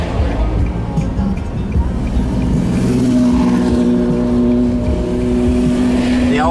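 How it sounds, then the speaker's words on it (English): Road noise from a moving car with another car following close behind, a steady broadband rumble with a rising engine tone midway, continuous throughout, with no talk. "What kind of car is that behind us?"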